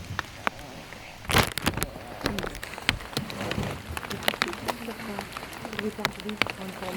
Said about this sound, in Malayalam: അതുപോലെ മഴയാണ്